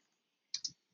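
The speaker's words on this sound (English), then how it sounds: "let's go ahead and start typing an email here" Two quick, faint clicks of a computer keyboard while typing an email, close and otherwise quiet.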